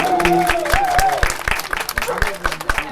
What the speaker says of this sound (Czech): Tak ještě jednou potlesk tedy pro vítěze dnešního ročníku.